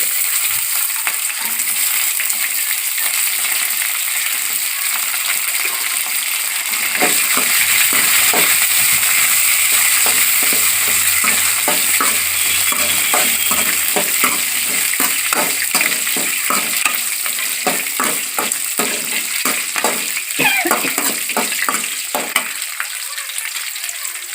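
Dried red chillies and garlic sizzle in oil in a pan, a steady hiss joined midway by repeated scraping stirs and clinks of a spoon, close up with no voices.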